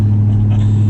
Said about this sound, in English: Like it's a lot of just turbo spool noise.